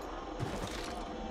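Rapid bursts of gunfire in the battle royale shooter Apex Legends, loud and close, with dense overlapping shots filling the whole brief moment.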